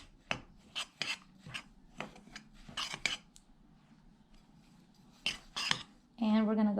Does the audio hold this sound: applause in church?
no